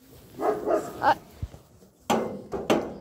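A dog barks in two short bursts of sharp, loud yaps close by, with a brief thump between them, in a domestic setting where a cart is being pushed.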